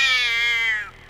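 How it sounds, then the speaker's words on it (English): A cat gives a single drawn-out meow, loud and close, tapering off after about a second into near quiet. "That's a cat."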